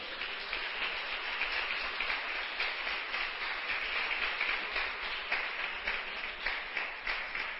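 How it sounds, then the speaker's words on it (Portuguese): A church congregation applauds continuously, a thick wash of clapping from many hands that keeps an even, sustained level with no break. "Você pode aplaudir o Eterno?"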